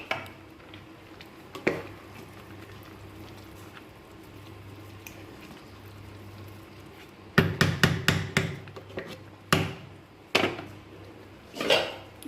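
Fried chicken pieces dropped into a pot of boiling rice, a quick cluster of close thumps and metallic clanks against the pot after a long stretch of quiet bubbling, followed by a few more scattered clanks.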